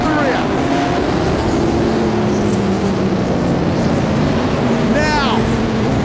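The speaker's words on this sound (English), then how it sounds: "And Bevan Burton, that car looks and sounds great out front." A Super Sedan race car's engine roars steadily at Charlton Raceway during the 2005/06 National Title A-Main dirt-track race, a constant loud drone under an announcer's fast commentary.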